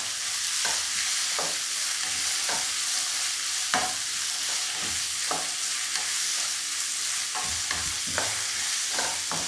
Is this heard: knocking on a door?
no